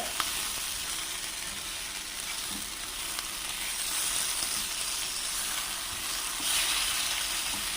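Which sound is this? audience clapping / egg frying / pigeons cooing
egg frying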